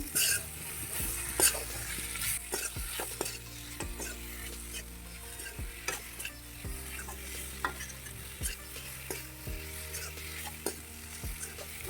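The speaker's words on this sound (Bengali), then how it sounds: "আলু দিয়ে ভালো করে কষিয়ে নিচ্ছি" Potatoes and tomatoes being stirred and fried for an egg curry, a steady close sizzle with regular scraping strokes of a spoon through the pan, no talking.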